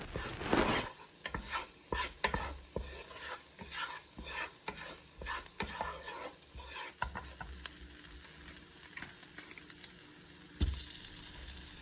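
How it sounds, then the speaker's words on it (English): Paprika, cayenne, garlic and onion stirred in sizzling butter in a pot for broccoli cheddar soup, with repeated scraping spoon strokes over a steady close hiss and no talk. "we're just going to mix this in and let this cook a little bit, maybe a minute or 2 with the butter, the garlic, the onion"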